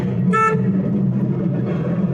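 A car horn gives a single short toot before overtaking on a road, loud and close over steady engine and road noise.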